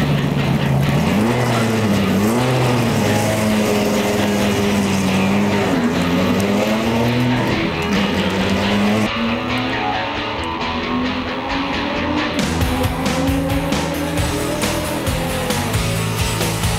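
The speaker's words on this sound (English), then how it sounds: "The 8-litre V10 engine produces a stupendous 615 horsepower" A 615-horsepower 8-litre V10 two-seater Grand Touring Coupe races around a track, its engine droning loudly and steadily with rising and falling revs as it shifts through gears, close and continuous throughout.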